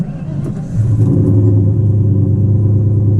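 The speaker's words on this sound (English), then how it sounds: "Let's get a little cold start with you guys." A cammed Ford Cobra Terminator with Borla ATAK exhaust cranks and catches on a cold start under a carport, then settles into a loud, steady low idle rumble close by.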